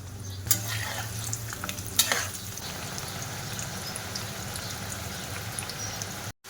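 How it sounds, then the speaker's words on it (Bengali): Leftover roti frying in white oil in a wok, a continuous close crackling sizzle with a couple of sharp pops and utensil knocks early on, then steady bubbling until an abrupt cut near the end. "রুটিগুলো আমি সাদা তেল দিয়ে ভাজা করব"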